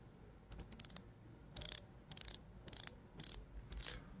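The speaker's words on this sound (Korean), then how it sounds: "그럼 가장 중요한 라쳇 소리가 어떻게 바뀌었는지 한번 들어볼게요." A bicycle rear freehub ratchet clicks in quiet, crisp bursts of rapid ticks, with a few short runs followed by longer spins of evenly spaced clicking, close and clean with no talk.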